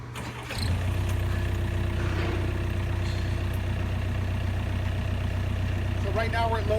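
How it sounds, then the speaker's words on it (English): Heavy equipment diesel engine idling steadily at low RPM during warmup, a loud continuous low rumble that starts up in the first half second, with a brief squeal near the end. "So right now we're at low RPM"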